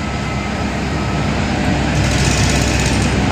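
A road roller's engine on a riverside esplanade, stuck and tilted after sinking, runs as a loud, steady, rough mechanical drone close by that continues throughout with no talking.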